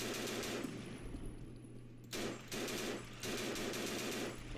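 Gunfire in the zombie video game No More Room in Hell comes as two short, dense bursts of rapid shots over a constant hum of game noise, fairly loud and close.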